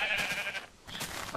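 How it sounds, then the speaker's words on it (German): Sheep bleat repeatedly in the Minecraft video game, several close, loud calls from a flock of about eight sheep, with no talk over them. "Warum haben wir hier 8 Schafe?"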